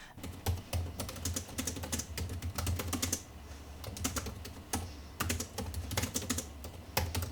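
Rapid, uneven keystrokes clatter on a Razer Blade 15 laptop keyboard, coming in quick bursts with short pauses, fairly close and moderately quiet.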